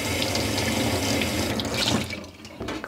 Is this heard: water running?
yes